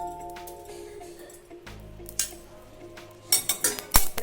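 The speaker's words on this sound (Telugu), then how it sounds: "ముందుగా గిన్నె పెట్టుకొని ఇందులో జీలకర్ర వేసి కొద్దిగా ఫ్రై చేసుకోవాలి" A pot is set on a stove and cumin seeds are tipped in to fry for tomato chutney, giving a few light metallic clinks and taps near the end over a soft, steady kitchen background.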